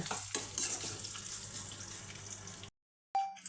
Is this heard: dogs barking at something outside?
no